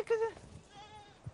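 A goat on a Latvian farm gives a short, loud bleat, followed by a fainter wavering call, with rustling nearby.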